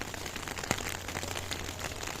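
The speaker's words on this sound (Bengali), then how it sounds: "সৌদি আরবে প্রচুর পরিমাণে বৃষ্টি হইতেছে," Steady rain falls in Saudi Arabia during cold weather, a continuous dense patter of drops on surfaces with one sharper nearby splash, heard alone without voices.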